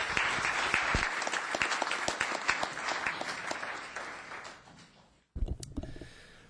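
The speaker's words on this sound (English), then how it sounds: "Let's give her a round of applause." Audience at a town council meeting applauds steadily for about five seconds, the clapping thinning out before a brief pause and a short burst of room noise.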